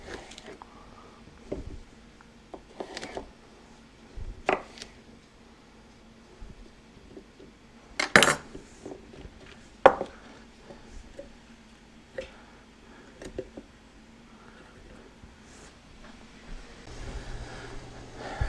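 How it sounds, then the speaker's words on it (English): Cucumbers being cut up for pickles, with scattered knife chops and thuds on a board alongside soft rustling, irregular and fairly quiet, in a calm kitchen without talking. "I'm gonna quit talking and just start cutting these things up"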